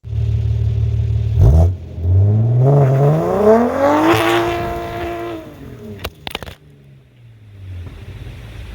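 A BMW 340i fitted with Kelford cams idles, then revs up in a rising, loud sweep that falls back, followed by a few sharp clicks and a steady idle, close up with no talking.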